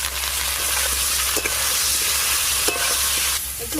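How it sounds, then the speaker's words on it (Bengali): Brinjal pieces with turmeric frying in a pan, a loud continuous hissing sizzle with a few faint spatula scrapes, close and steady throughout. "একটু চাপা দিয়ে ভালো করে ভেজে নেব।"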